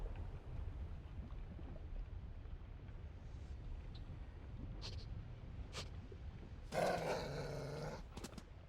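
A short, rough dog growl or bark with a harmonic edge rises once near the end of a Magic: The Gathering Arena digital card game, over a low steady background hum.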